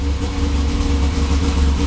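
An old 800 triple engine from 2000, tuned to run rich, idles steadily and loudly right after start-up, with a constant close-up drone and no breaks.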